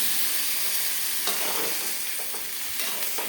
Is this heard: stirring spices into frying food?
yes